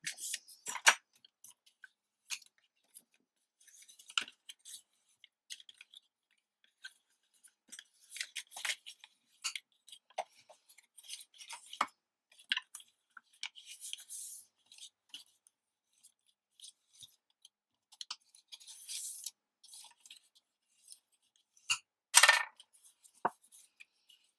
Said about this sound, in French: je n'ai plus qu'à marquer tous mes plis